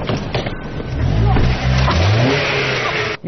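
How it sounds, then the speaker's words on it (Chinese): A car engine revved hard as the accelerator is floored, loud and close, rising to a sustained roar across the clip with voices faintly mixed in. "犯罪嫌疑人猛踩油门企图逃脱"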